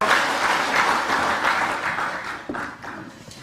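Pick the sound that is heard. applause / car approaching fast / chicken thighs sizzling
applause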